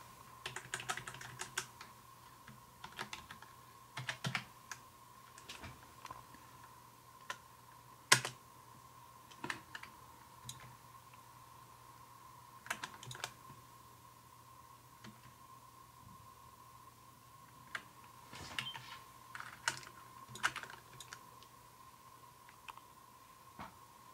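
Keystrokes on a computer keyboard during PlayStation 3 setup, in irregular bursts of quiet clicks separated by pauses over a steady low hum, with no talking.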